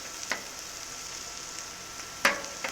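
Steak, onions and peppers on a flat-top griddle in a steady, hissing sizzle, with a couple of sharper spits and scrapes rising out of the frying.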